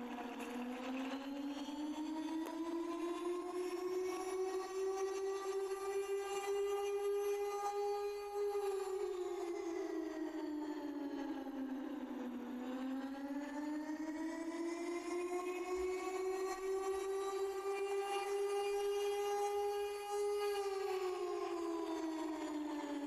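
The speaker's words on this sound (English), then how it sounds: "The attack sirens are on in Brookhaven." A loud air raid siren in the Roblox game Brookhaven wails continuously, its pitch rising and falling in slow sweeps, with no talking.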